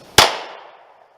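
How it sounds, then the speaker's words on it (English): A single loud gunshot from a Remington R51 Generation 2 pistol firing 115-grain rounds at an outdoor range, a sharp crack followed by a short fading echo. "This gun has never been fired before."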